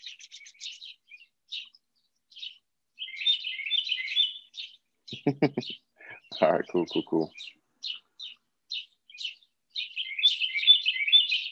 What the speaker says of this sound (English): Is that bothering you guys, the birds?